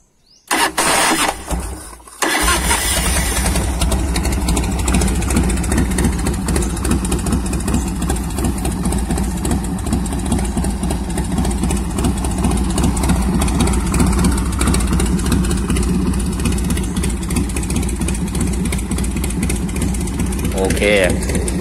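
A 1990 Harley-Davidson Fat Boy Evo V-twin cranks and fires after a carburetor cleaning, then settles into a loud, steady, lumpy idle close by, with voices occasionally heard beneath the engine.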